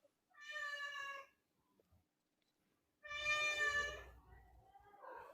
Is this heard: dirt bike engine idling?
no